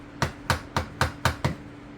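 A hard plastic urethane mallet strikes wooden speaker enclosure parts for an 8-inch vented door enclosure, six sharp, evenly spaced close knocks in quick succession over a low steady hum.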